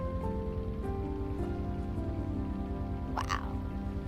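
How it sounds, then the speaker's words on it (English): Steady rainfall in a storm-chasing video game, a continuous hiss of rain under a constant low tonal drone, with a brief sharp burst near the end. "It's still raining though."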